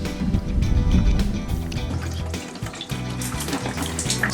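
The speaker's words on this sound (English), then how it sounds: "We did a water test, water leaking test." Water runs and splashes heavily over a van roof, which was cut off and rebuilt, during a leak test. A loud, continuous gushing spray with some drumming on metal is heard close by.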